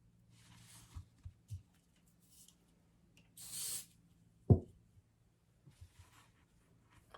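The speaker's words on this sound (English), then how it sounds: "pro tip from Ruby, I'm just going to spray a little bit of hairspray on my fingertips" A short hiss of an aerosol hairspray, followed by a soft thump and faint light handling noises in a quiet room.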